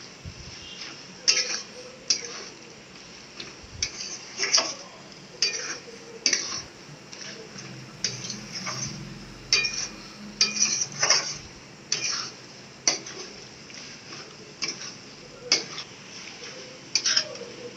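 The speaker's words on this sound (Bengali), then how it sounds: "দিয়ে দিচ্ছি একটু চিনি, দিয়ে ভালো করে মিশিয়ে নিচ্ছি।" A spoon stirs mutton liver curry with added sugar in a metal pan, giving soft, regular clinks and scrapes about once a second over a quiet sizzle, with no talking.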